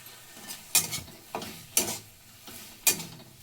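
Garlic and onion hitting a hot pan, three separate bursts of sizzling with stirring scrapes, each fading quickly, close up and with no voices.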